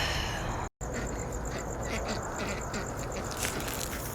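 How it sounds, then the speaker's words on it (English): Geese and ducks come in to their shelter for the night on a small farm, giving soft scattered quacks and honks over a noisy outdoor background. "The geese are coming to bed"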